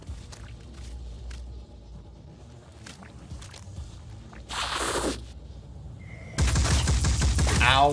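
Gunfire during combat in the video game Phoenix Point, scattered sharp cracks over a low rumble, then a hissing burst and a loud sustained volley at the end; a voice talks over part of it.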